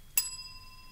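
A single bell is struck once, near and fairly loud, and its clear tone rings on, fading slowly to the end against a quiet room background.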